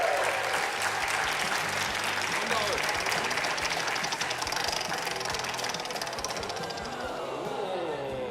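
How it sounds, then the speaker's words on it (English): Continuous audience applause during a prize wheel spin on a show, steady and full, with a whirring, ticking mechanical texture running beneath the clapping and some voices mixed in. "big round of applause as Trent spins the wheel"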